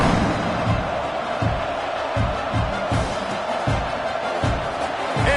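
A football stadium crowd at a college game, Florida against Oklahoma, roars in a broad, sustained wash of cheering during a kickoff, with rhythmic thumping beats pulsing through the noise.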